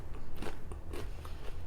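Several crisp bites into a crunchy gluten-free vegan wafer cracker, loud and close, with brittle crackling bursts at an uneven pace and no talking.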